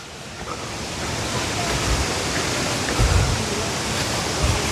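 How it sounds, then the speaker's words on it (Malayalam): The Anachadikuthu Waterfalls rushing among rocks, a broad, steady roar heard from nearby with occasional low rumbling surges and no voices. "അപ്പോൾ നമുക്ക് വെള്ളച്ചാട്ടത്തിൻ്റെ സൗണ്ട് കേൾക്കാം കേട്ടോ."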